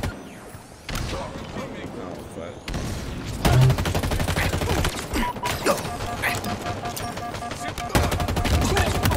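Rapid bursts of automatic gunfire in the Halo Infinite multiplayer shooter, loud and sustained across the clip with game mechanism clatter, while players talk over it.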